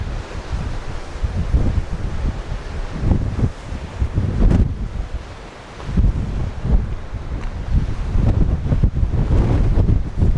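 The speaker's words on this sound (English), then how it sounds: "I don't know if you can hear that wind." Strong wind buffets the microphone in loud, continuous gusts on a trail down to a beach. Rough seas with big waves roar beneath it.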